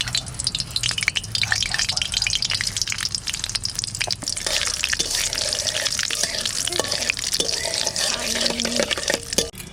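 Dried red chili and nigella seeds frying in hot oil for a bitter gourd masala curry, a steady close sizzle with scattered pops and crackles, plus a few clinks of a utensil against the pan, no one talking.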